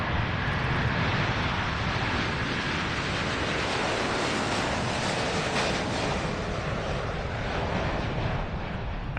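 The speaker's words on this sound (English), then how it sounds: "There was another 777 at the show as well, a 200ER series jet" A Boeing 777-200ER jet at an air show gives a broad, steady roar of jet engine noise with a rushing, wind-like quality, holding level for several seconds with no voices.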